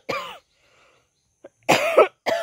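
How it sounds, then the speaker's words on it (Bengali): A person with a persistent cough coughs three times nearby in short, rough bursts. The coughs are separated by quiet pauses, and the last one is cut off. "এই কাশির জন্য আমাকে একটু স্বস্তি দিচ্ছে না।"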